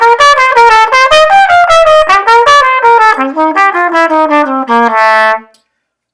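A solo instrumental line improvised on the dominant bebop scale weaves through fast running notes and arpeggios, descending gradually, then settles on a held final tone before stopping, loud and close.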